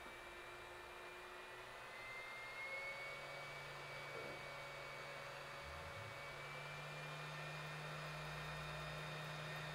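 Steady hot-air airflow from an 862D 2-in-1 rework station, a continuous broadband whoosh with a low fan hum that holds evenly for the whole stretch, slightly rising as the flow is turned up.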